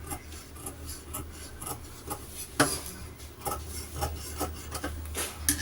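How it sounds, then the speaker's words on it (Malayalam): Fabric edge trimmed for a sewn top, with close, repeated rasping cuts in uneven bursts and a sharper snip near the middle; no voices. "ഈ ഒരു എഡ്ജൊക്കെ കട്ട് ചെയ്ത് കൊടുക്കാം"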